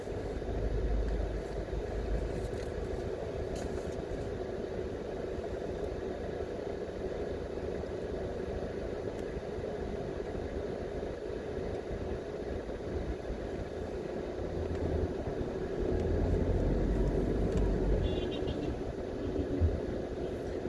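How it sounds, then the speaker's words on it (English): Busy afternoon street traffic at Half Way Tree, Jamaica: a steady wash of engines idling and passing vehicles, moderately loud and continuous, with faint distant horns and no clear talking. "So you can get an idea of just what the traffic is like and how busy the place is."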